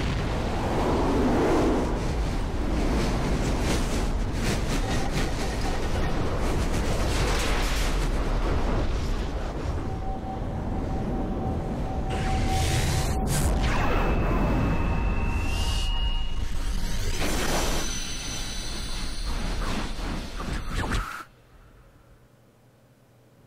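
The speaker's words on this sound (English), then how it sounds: "That was a fancy explosion." Video game explosion from Chrono Cross: a loud, sustained rumbling blast with deep low-end roar, layered with rising tonal effects and crackles, lasting about twenty seconds before cutting off suddenly.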